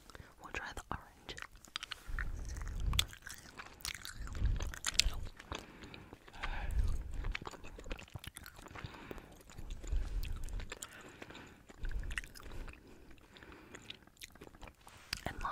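Orange American gummy candy is chewed close to the mic in an ASMR setting, giving soft, wet, squishy mouth sounds in repeated bursts, with faint whispering between them.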